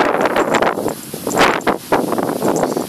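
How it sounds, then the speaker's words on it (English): Strong gusty wind buffets the microphone in rushing waves, rising and falling, with faint rustling underneath. "it's very windy."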